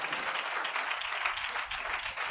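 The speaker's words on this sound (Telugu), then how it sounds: "చప్పట్లు కొట్టి దేవునికి స్తోత్రం చెప్పాలి." A church congregation claps hands in praise of God, a dense, steady round of applause lasting throughout with no speech over it.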